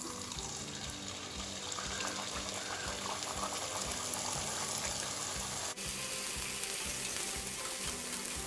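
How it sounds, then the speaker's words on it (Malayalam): Pooris deep-frying in hot oil give a loud, steady sizzle with dense bubbling crackle throughout, continuous and close, with no talking. "എണ്ണ നന്നായി തിളച്ചിട്ടുണ്ട്"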